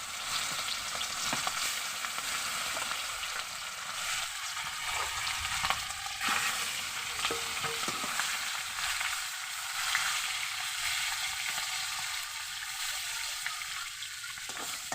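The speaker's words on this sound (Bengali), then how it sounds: "আমি মাছটা ভেজে নিচ্ছি" Oil sizzles steadily as rohu fish fries, a dense crackling hiss with occasional sharper pops, close and continuous with no voices.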